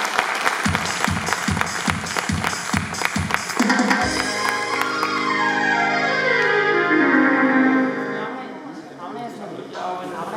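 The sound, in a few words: audience applause at a live anniversary event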